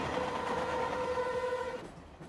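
A Mumbai train rumbles along steadily in a film scene, a dense continuous roar with a sustained horn-like tone before it fades away at the end.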